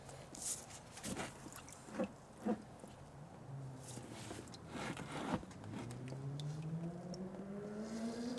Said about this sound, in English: That's either a Beamer or a motorcycle. I think it's a motorcycle.